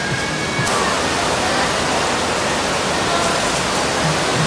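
Taytay Falls at Majayjay, Laguna pours in a dense, unbroken roar of falling water, loud and close, steady throughout with no voices over it.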